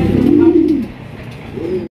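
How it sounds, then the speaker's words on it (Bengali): A king pigeon with red gear coos in deep, throaty rolls, loud and close. One long coo is followed by a short pause and a second coo, with no talking. "ডাক দেখেন কোয়ালিটি দেখেন লাল গিয়ারের কিং"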